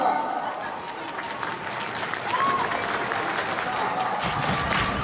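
Applause from the crowd at a charity ice hockey match between priests and journalists, a steady wash of clapping that swells slightly toward the end, with a rink announcer's voice faintly over it.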